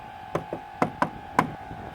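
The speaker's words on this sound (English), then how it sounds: "So they knocked on the wolf's door." Knocks on a wooden door, read aloud from a children's story: five sharp raps in an uneven pattern over a faint steady hum, with no voices.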